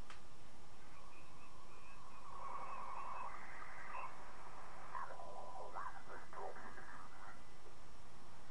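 A ham radio receiver tuned up the 20-meter amateur band over steady hiss, with warbling tones and garbled sideband chatter that shift and break up as the dial moves.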